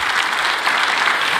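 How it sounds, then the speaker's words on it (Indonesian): Dense, steady applause from a large church congregation during a sermon, loud and continuous throughout the brief moment. "Memberi tepuk tangan yang meriah buat Tuhan"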